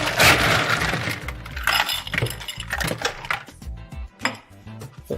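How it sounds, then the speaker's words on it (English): Ice cubes tumble into a rocks glass in loud, clattering bursts, a cascade of hard clinks and knocks that thins out into a few scattered taps near the end. "Fill it right up with ice."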